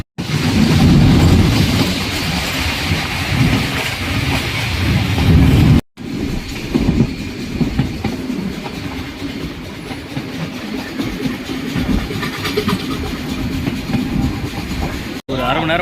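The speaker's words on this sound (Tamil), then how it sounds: "நீராவி இன்ஜினில் இப்போ வரைக்கும் இயங்கிட்டு இருக்கிற ஒரு ட்ரெயின்" A steam train rumbles steadily along the rails with a loud, continuous roar and rhythmic clatter of wheels, heard from on board.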